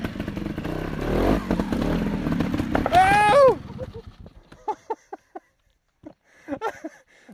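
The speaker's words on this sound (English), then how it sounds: "So I'm gonna use second gear up this, so I don't have to have higher RPMs" A dirt motorcycle in second gear climbs a creek bed, its engine revving loudly with a rising whine and clatter before cutting out, followed by sparse knocks and scrapes with people talking.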